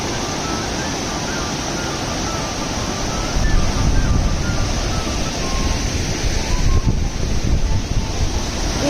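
Loud, continuous rushing of a waterfall in Norway, an unbroken roar with wind buffeting the microphone throughout.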